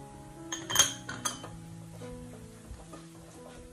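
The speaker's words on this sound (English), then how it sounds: "Stir to mix all the ingredients thoroughly." A utensil stirs aromatics, chili powder and soup base in a pot for Vietnamese bun bo Hue, making a few light clinks and scrapes. A brief louder knock comes early, then soft scraping continues at low volume.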